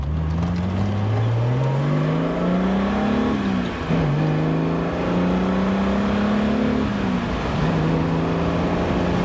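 A 1960s car's 4.2-litre straight-six XK engine drones steadily while driving, its pitch rising under acceleration and dropping at gear changes, loud and close throughout.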